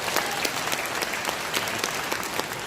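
Crowd at a political rally in Incheon claps vigorously, a dense and even applause heard from some distance, with no clear speech over it.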